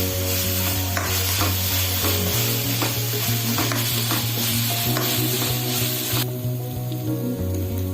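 Onions frying in a pan with ginger garlic paste, stirred steadily with a spoon; a loud, continuous sizzle with repeated scraping strokes, close up, and no talking.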